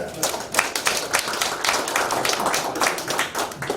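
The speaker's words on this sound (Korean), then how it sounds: "한번 박수 하십시다." Audience applause at a Korean Christian world mission forum as a college director is called to the front, dense steady clapping from a room of people with voices mixed in, moderately loud throughout.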